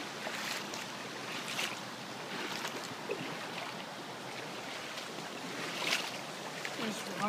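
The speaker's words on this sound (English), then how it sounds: "It's like a mini river now." Floodwater rushing through a flooded neighborhood like a small river past a downed fence, a steady broad wash of moving water heard close and continuous throughout.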